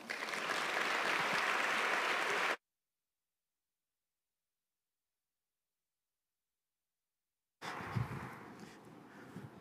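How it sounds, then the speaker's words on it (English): Audience applause at a conference plenary, a dense burst of clapping that cuts off into a long silence, then resumes more thinly before fading. "I know you will give my boss a warm round of applause."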